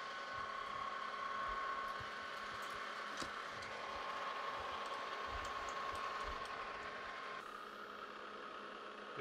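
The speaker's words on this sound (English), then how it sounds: "I like this little Lodge and Shipley lathe. It's been a while since I've used it, but it's a beast." A small Lodge and Shipley metal lathe runs steadily in a workshop, a constant mechanical whine and whir with a faint ratcheting rattle, moderately quiet and uninterrupted, with no talking.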